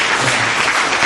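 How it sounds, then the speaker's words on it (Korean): Seminar attendees at a real estate and REITs industry event clap in a loud, close, steady burst of applause, with no one talking. "박수 한번 쳐주세요."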